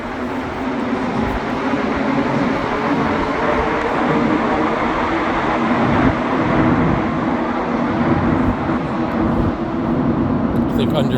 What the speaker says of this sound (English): So there's the train leaving Snowdon.